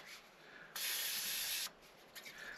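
Cooking spray spritzed onto a sandwich maker in a camper van, one near, sharp hiss lasting about a second, set against a quiet background.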